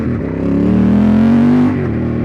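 A 2003 Ducati Monster 916 S4 engine revs loud and close, its deep tone climbing in pitch and holding before easing back down.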